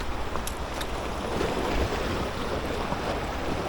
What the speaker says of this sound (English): I just got splashed by a rolling wave.